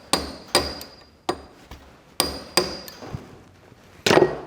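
Sharp hammer blows knocking a part into place while servicing the pinion shaft of a Massey Ferguson 65 tractor, about eight metallic strikes at irregular intervals, close and ringing, with the last one loudest.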